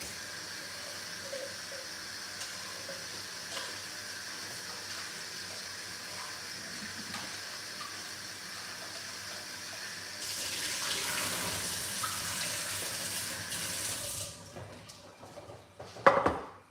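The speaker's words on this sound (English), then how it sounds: "Let me wash these off." Broccoli is rinsed under a running kitchen tap, a steady hiss of flowing water that grows fuller and splashier toward the end before the tap shuts off with a faint clunk.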